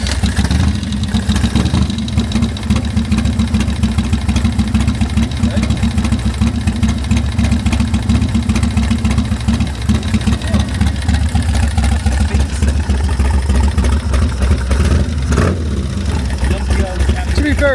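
Harley-Davidson performance motorcycle engine idling close by, a steady low, rumbling throb that runs loud and continuous throughout, with people talking over it.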